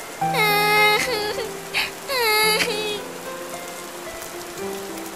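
Steady rain hisses throughout while a high, quavering voice, a cartoon grey rabbit, whimpers and wails in several drawn-out bursts near the start, then fades to rain alone.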